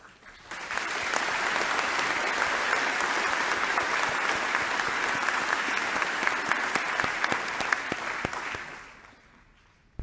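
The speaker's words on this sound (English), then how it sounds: "give yourselves a big round of applause" A large crowd at a University of Texas at Dallas commencement breaks into loud, sustained applause, dense clapping swelling in and holding for several seconds before fading away.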